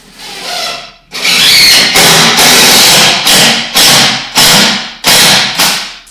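A power drill drives long screws into stacked logs to join log wall pieces, a loud close whirring burst followed by a series of repeated short driving pulses, each rising then cutting off.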